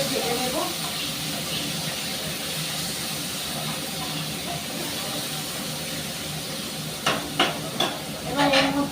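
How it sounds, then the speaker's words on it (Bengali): Onion, tomato and green chilli fry in a pan with a steady, dense sizzle that holds throughout, joined near the end by a few sharp clatters of stirring. "পেঁয়াজ, টমেটো, কাঁচা লঙ্কাটাকে খুব ভালো করে ভেজে নেব"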